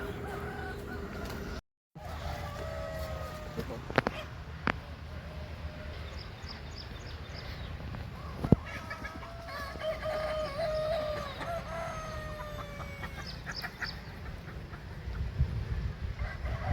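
Free-range village chickens, some perched in a tree, cluck and call nearby against an outdoor background, with several short bird calls scattered through the clip and no talking.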